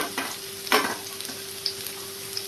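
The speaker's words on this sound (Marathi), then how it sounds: "ते चांगले मी गुलाबी होईपर्यंत परतणार आहे।" Two medium chopped onions sautéing in a pan, a quiet steady sizzle with a couple of soft stirring scrapes, no voices.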